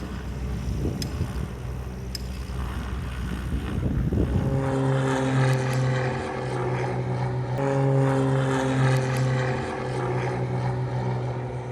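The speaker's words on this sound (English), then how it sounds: "Airborne at a safe height, the students now start to experience in-flight upsets in a real aeroplane" Propeller aeroplane in flight during upset prevention and recovery training, with a steady droning engine hum and strong harmonic whine that shifts pitch partway through as power changes, loud and continuous over wind rush, no voices.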